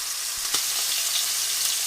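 Short ribs sear in a skillet with a steady, dense sizzle and crackle, fairly loud and close, with one brief clink of a utensil partway through and no talk.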